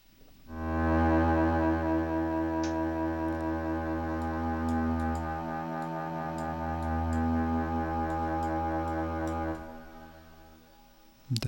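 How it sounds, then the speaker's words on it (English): Sustained solo strings play a long, steady, harmonically rich tone drenched in a large feedback-delay-network reverb, swelling and holding for several seconds before cutting off into a reverberant tail. "let's put an FDN reverb here in the end"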